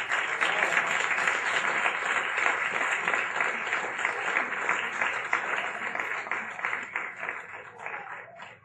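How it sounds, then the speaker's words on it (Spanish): A congregation applauds at a Spanish-language religious talk, a steady crowd clapping sustained for several seconds before gradually thinning and tapering off at the end. "Vamos a dar un fuerte aplauso al Señor"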